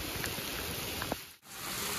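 Steady rain falls across an empty temple area at K Gudi in BR Hills, Karnataka, during the monsoon, making a continuous broadband patter and hiss that dips briefly near the end.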